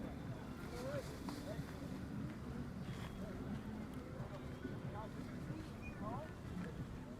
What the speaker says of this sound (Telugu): ఇప్పుడైతే గాలి వస్తుంది, చూస్తున్నారు కదా కైట్ అనేది ఎట్లా ఎగురుతుందో